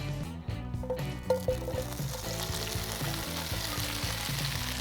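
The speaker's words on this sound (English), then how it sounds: "In go the beautiful Brussels sprouts." Brussels sprouts sizzle and fry in hemp oil in a pan, a close, steady crackle with occasional louder spits as they settle, no voices.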